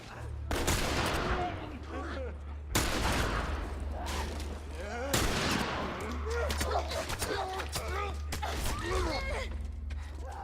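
Rifle fire in the video game The Last of Us: three sharp, loud shots spaced a few seconds apart, each trailing off in a ringing decay, with faint creaks and mechanical rattles between them.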